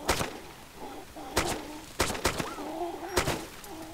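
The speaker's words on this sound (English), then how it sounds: "Now with an AK, these will take 1 shot to shoot the zombies in the head with, 2 in the chest." An AK rifle in DayZ fires several sharp shots at zombies, in irregular single bursts spaced across a few seconds. Quieter game ambience and faint chirps fill the gaps between shots.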